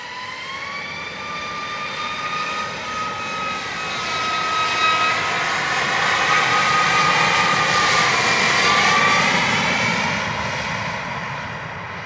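A Southwest airliner takes off from runway 25 at Montego Bay, Jamaica, its loud jet roar swelling and sweeping past with shifting whining tones before easing off, no voices.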